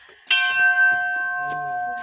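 A bell rings out from a bell tower at a hilltop prayer site in Balikpapan, Kalimantan: one loud strike whose bright, steady tone hangs and rings on, with faint voices in the background.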